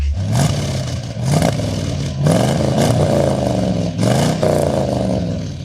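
A deep, loud Chevy Corvette engine revs up several times, each roar swelling and dropping back to a rumbling idle, close by with no talking.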